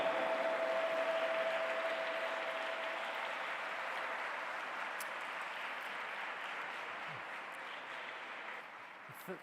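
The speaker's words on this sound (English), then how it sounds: "Please put your hands together and welcome, with a round of applause" Sustained applause from a large audience greets a speaker at the G20 Interfaith Summit 2023 at the World Peace Dome, a dense, steady wash of clapping heard from a distance that slowly fades toward the end.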